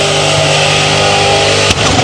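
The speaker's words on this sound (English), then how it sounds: "Oh, disintegrating the tire this time round." A Holden VN Commodore does a burnout at Southcoast Raceway, its engine held at a steady high rev while the tire screams against the track, then a sudden sharp crack near the end before the roar continues.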